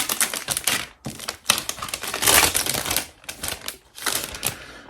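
An Amouage perfume package is torn open close up, giving rapid crackling, tearing and rustling bursts of paper and plastic with short pauses between rips.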